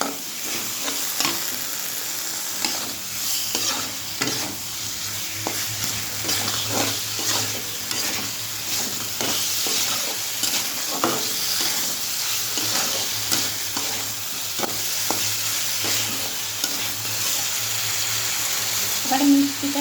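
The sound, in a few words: peas being stirred and fried in a pan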